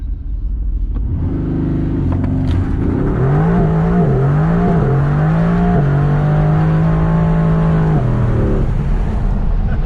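A Mercedes-AMG engine, one of a 2020 AMG GT R Pro or a 2012 C63 Black Series, idles with a deep rumble, then revs in several rising and falling bursts before holding a high steady note and dropping back, loud and close.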